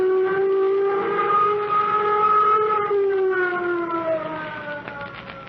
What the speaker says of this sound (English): Sound flight warning signal.